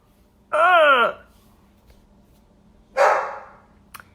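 One loud, close dog bark at Halloween decorations is followed after a pause by a rougher second bark, with a small click at the end.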